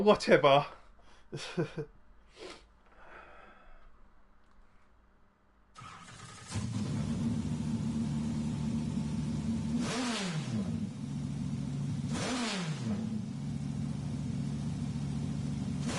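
Dodge Viper engine in the racing game Gran Turismo Sport: after a few clicks and quiet moments it settles into a steady low engine drone, with two rising-then-falling revs or shifts, while a voice talks over part of it.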